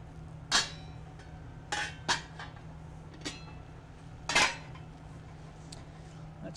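Pots and pans clinking in a home kitchen while three pans of macaroni are set up to cook, with several sharp metallic clanks and clinks spaced irregularly over a steady low hum.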